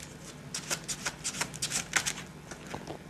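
Tarot cards being shuffled by hand, a steady run of soft papery riffles and flicks, close and fairly quiet, repeating in quick bursts for about three seconds with no talking.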